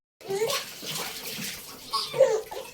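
A one-year-old girl splashes in bath water, with continuous close sloshing while an adult talks over it.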